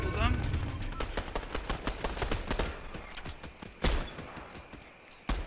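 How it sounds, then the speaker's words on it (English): Video game gunfire rattles in rapid bursts and single loud shots, fairly close, with a continuous battle din underneath and players talking over it. "Oh no, someone's shooting me."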